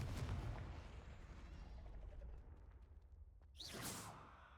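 Confringo blasting spell cast in Hogwarts Legacy: a fading rumble from an earlier blast, then a sharp whooshing burst of magic flaring up and tailing off, with no voices.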